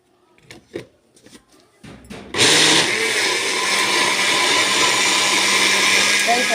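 A kitchen blender roars on loudly and runs steadily, churning oil, vinegar and lemon into homemade butter. Soft talking and handling noises come before the motor starts.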